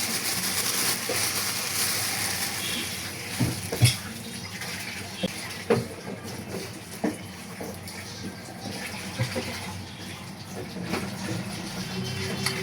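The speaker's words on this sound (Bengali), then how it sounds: "কিন্তু তার আগে আলুগুলো ধুয়ে নিতে হবে।" Potatoes being washed in water before boiling, with running water gushing from a tap, close and continuous, and occasional knocks and splashes as the potatoes are handled.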